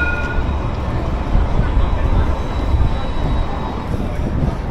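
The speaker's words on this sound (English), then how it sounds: "Got the trams running on George Street." Trams run along George Street in Sydney, heard as a loud, steady low rumble of city traffic and rail noise that continues without a break.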